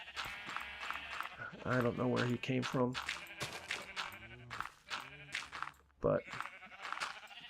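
Sheep in Minecraft bleat repeatedly in short wavering calls, mixed closely with someone talking over them throughout.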